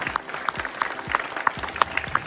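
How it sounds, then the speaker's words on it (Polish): Applause for a youth basketball team at a tournament in a sports hall, steady distant clapping from a crowd with regular louder claps standing out, fairly faint and without talk. "wielkie brawa dla was"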